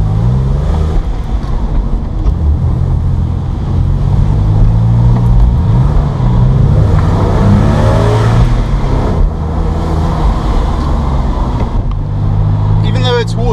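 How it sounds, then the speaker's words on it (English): A water-cooled Porsche 996 sports car engine revs and rumbles loudly and continuously, pitch rising and falling with acceleration, heard up close. "the engine's actually full of character and I think it sounds great"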